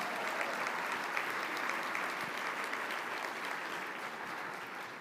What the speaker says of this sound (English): So if you don't mind giving them a round of applause, I'd really appreciate it.